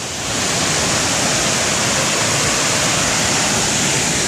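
Kapuzbaşı waterfall in Turkey, a loud, steady broadband roar of falling water that fills the whole moment without a break, close and constant with no voices.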